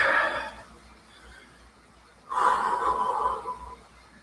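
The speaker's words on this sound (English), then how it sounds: "Maybe if you're like me and you're out of breath, take some big breaths." Someone breathes heavily and audibly after hard cycling exercise, with a couple of deep, forceful breaths close to the mic in a quiet room.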